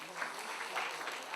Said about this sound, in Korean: 네, 박수 부탁을 드립니다.